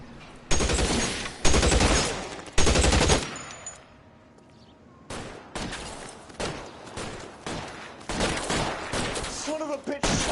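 Gunfire in the 1940s Los Angeles detective game LA Noire, loud close bursts of rapid shots with short pauses between them, fading to quieter scattered fire and scuffling.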